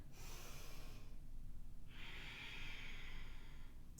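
Rhythmic breathing during a yoga warrior 2 flow, a long airy exhale followed after a pause by a long inhale, soft and close with no talking.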